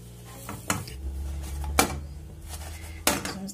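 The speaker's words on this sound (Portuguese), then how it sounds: "E nós vamos estar chapeando o nosso pão." Butter-brushed burger bun toasting on a flat griddle in a home kitchen, with a low steady sizzle under a few sharp clinks and scrapes of a metal utensil against the cooking surface.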